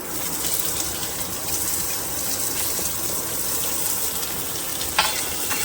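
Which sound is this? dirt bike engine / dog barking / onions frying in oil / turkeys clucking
onions frying in oil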